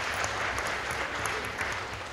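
A short burst of audience applause at a PAX East 2016 gaming convention panel, dense and steady clapping from many hands throughout.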